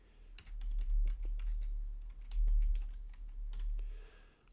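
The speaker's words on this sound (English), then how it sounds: "Sorry about my bad typing." Rapid, uneven keyboard typing with clattering keystrokes in bursts, close and fairly loud, over a low steady hum, with no voices.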